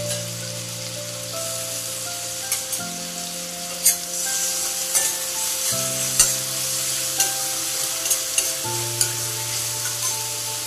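Green chillies and onion sizzle steadily in a pan for paneer bhurji, with intermittent scraping stirs and small ticks over a continuous frying hiss and a low background hum.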